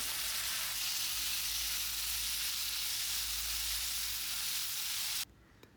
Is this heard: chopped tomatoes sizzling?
yes